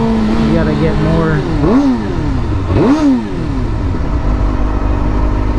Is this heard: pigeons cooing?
no